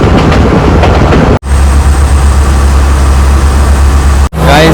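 A train running on the Kandy to Ella line in Sri Lanka gives a loud, steady, close-up rumble with a deep low drone throughout, broken by two brief abrupt cuts.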